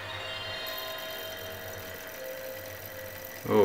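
Faulty spindle motor in a Sony PlayStation 1 disc drive runs with a steady, faint mechanical whir and hum, then a louder scraping burst at the very end.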